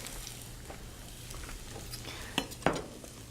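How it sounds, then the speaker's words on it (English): Onion frying in oil in a pan for a macaroni vegetable bake, a soft steady sizzle with a low background hum and a couple of sharp utensil clinks near the end. "Lovely, yes, that lovely sizzle sound."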